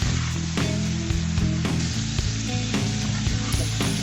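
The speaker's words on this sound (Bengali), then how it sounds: "আমার বেগুনটা কিন্তু ভাজা হয়ে গিয়েছে" Eggplant and potato fry in a pan with a loud, continuous close sizzle and crackle, punctuated by stirring scrapes and clatters, with no talk.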